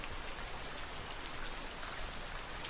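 Steady, close rain falling with dense raindrop patter, even and unbroken throughout, no voices.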